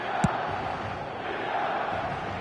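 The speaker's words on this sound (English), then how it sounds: "This crowd doesn't do ordinary, and we should be in for something very special." A match-day stadium crowd, likely at a football game, keeps up a steady roar and murmur, with one brief sharp knock near the start.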